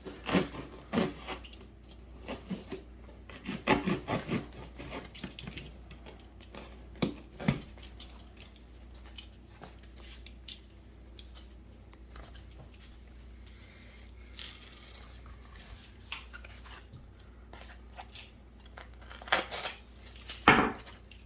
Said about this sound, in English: Or I could use a box cutter for this.